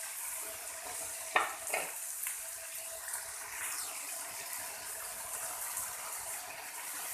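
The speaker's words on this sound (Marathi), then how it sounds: "3 ते 4 मिनिटं हे सर्व साहित्य आपल्याला व्यवस्थित असं फ्राय करून घ्यायचे" Tomato and onion fry quietly in a pan under a soft, even sizzle, with a couple of sharp stirring knocks early on and then a gentle steady hiss.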